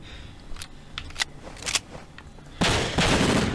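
Pistol gunshots in the horror game Breakdown ring out as scattered sharp cracks at irregular intervals. Then a louder, continuous burst of noise takes over near the end, with no talking.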